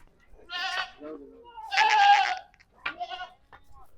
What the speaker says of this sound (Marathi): बघा मित्रांनो या पण शेळ्या तुम्हाला सोडून दाखवतो